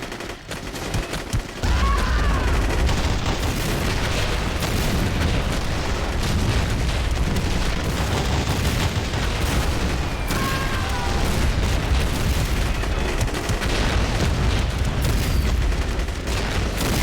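An MT-LB armored vehicle is destroyed in a video game mod, a dense, loud, continuous barrage of booming explosions and rumbling gunfire after a brief quieter opening.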